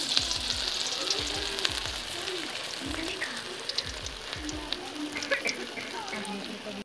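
Naan bread set into hot ghee, frying with a steady, dense sizzle and crackle throughout, with occasional low knocks and handling sounds; a voice speaks briefly under the frying.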